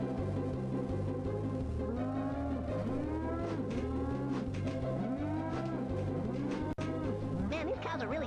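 Cows in the South Park N64 game stampede and moo in repeated rising and falling calls over a looping game music track and engine-like drone, steady and loud throughout.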